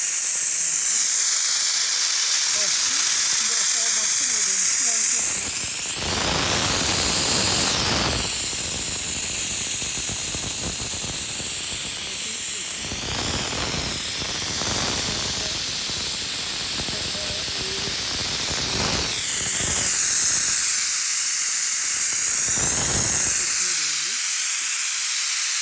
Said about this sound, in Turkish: Valfi açıp aşağıya bastırdığımda emiş başlayacak.